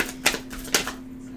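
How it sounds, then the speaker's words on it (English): Tarot cards shuffled close by in a quiet room, giving two crisp riffling bursts with softer flutters between and a steady faint hum beneath. "I know I already pre-shuffled these, but still do it again."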